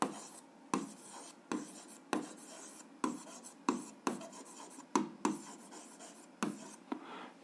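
Writing on a surface during an algebra exercise: a regular series of short scratchy strokes about every half second, each starting with a soft tap, close and quiet with no voices.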